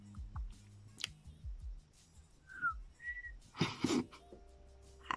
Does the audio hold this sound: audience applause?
no